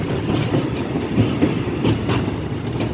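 Special railway wagon rolling past near Bordeaux or Bayonne in France: a loud, continuous rumble with rhythmic clickety-clack of wheels over rail joints, close by and steady throughout, with no talk.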